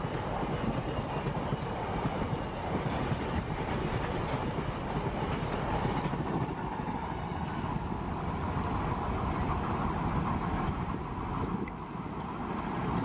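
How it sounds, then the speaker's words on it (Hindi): A WAG-12 electric locomotive hauls a long freight train past, making a continuous heavy rolling rumble with faint clattering wheels that holds steady for over ten seconds. "क्या खूबसूरत फ्रीट ट्रेन है यार। ज़बरदस्त, आगे लोकोमोटिव खूबसूरत लगा है, पीछे ट्रेन"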